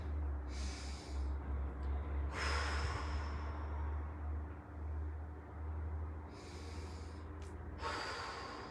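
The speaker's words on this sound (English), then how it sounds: "take a deep breath." A deep breath drawn in and let out during a calm morning relaxation exercise, with two audible breath bursts, one early and one near the end, over a low steady hum.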